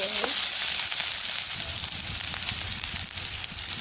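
Potatoes frying in hot oil in a home kitchen pan give a steady, loud, dense sizzle that holds throughout, with faint stirring beneath it.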